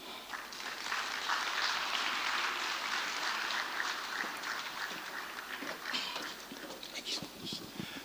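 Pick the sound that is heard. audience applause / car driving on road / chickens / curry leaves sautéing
audience applause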